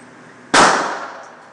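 A single loud gunshot at a gun range in Pompano Beach, Florida, a sharp close crack followed by a brief decaying ring, with no talk over it.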